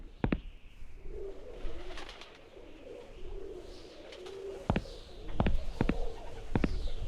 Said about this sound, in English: Those pigeons look hungry and they're looking at me funny.